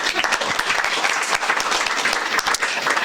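An audience at a city planning panel discussion applauds a panelist, a dense, loud burst of many hands clapping steadily throughout.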